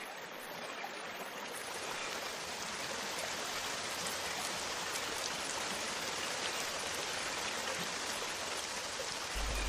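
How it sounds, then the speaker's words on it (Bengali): Steady rain falls in a cartoon scene, a constant, even hiss of drops that is moderately loud and continuous throughout, with no voices. "আরে এই তো বৃষ্টি চলে এসেছে"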